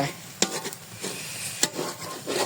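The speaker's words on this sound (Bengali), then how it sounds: "মশলাগুলো ভুনে দিই" Spices fry in oil in a pan while a utensil stirs them, giving a close sizzle with intermittent scraping strokes and a couple of sharp clacks against the pan; no one speaks.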